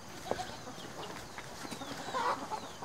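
Chickens cluck softly around a rural coop shared with goats, a few brief calls rising faintly over a quiet outdoor background.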